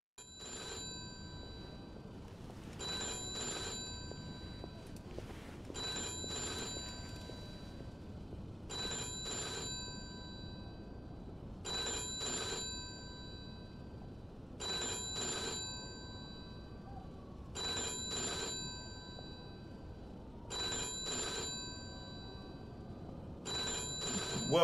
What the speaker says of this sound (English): We've let the phone ring long enough.